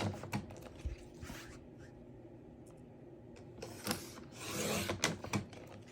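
A paper trimmer slicing strips of cardstock for a crafting project: quiet, close scraping and sliding strokes with light clicks, several cuts in sequence.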